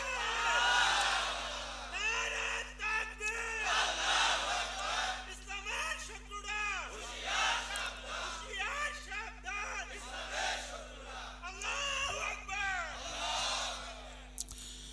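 A congregation at a Bengali Islamic sermon in Sirajganj shouts takbir loudly, with massed voices rising in repeated surging waves for the whole stretch over a steady hum.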